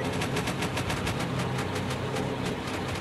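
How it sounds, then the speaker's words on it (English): Nose turret machine gun of a B-17 bomber in a video game, rapid steady bursts of gunfire at even rhythm over a constant engine drone, loud and continuous throughout. "Maybe we can shoot them with our nose turret."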